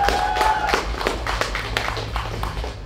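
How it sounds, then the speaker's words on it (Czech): An audience at a concert at Kasárna Karlín gives the drummer a short burst of scattered clapping, with steady close hand claps under a low hum of the room. "tak nějaký potlesk pro něj"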